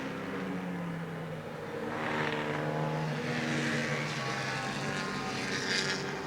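Powerful touring cars race on a rain-soaked Warwick Farm track in 1970, their engines rising in two loud sweeping passes over a constant rumble of spray and heavy rain.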